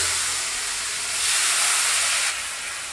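Sliced onions go into hot oil for a brinjal and fish fry, setting off a loud, continuous hiss that swells briefly midway and then settles, with no talking.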